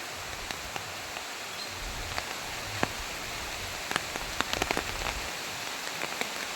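Heavy torrential rain pours down over a village, a steady dense hiss with scattered sharper drops spattering nearby surfaces throughout, no voices.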